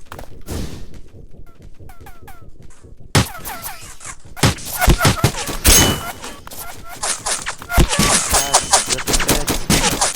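Rapid bursts of gunfire and machine-gun fusillades in the Roblox game Titan Warfare, sharp repeated cracks growing denser and louder, with a player talking over them.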